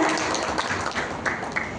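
Audience applause at the opening ceremony of Indonesia Grafika Expo 2025, a printing and graphics technology trade fair in Jogjakarta, forms a steady, fairly loud wash of many hands clapping throughout, with no voices over it.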